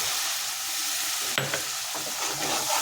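Water hits dry spices frying in a pan with a sudden sharp burst, and a hissing, bubbling sizzle continues close up afterward.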